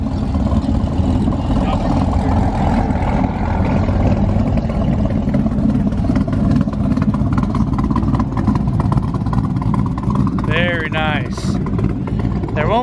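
Deep, loping engine rumble from several idling supercars with cam chop, a choppy uneven beat, mixed with crowd chatter at a car show and a brief whoop near the end.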